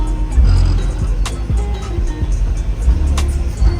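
A loud modified BMW with an aftermarket bass system rumbles close by, heavy low-end thumps and engine noise pulsing throughout.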